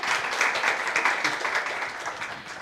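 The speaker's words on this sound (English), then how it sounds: "Please give our panelists a round of applause." An event audience gives panelists a round of applause, with steady, even clapping from many hands filling the whole stretch with no talk over it.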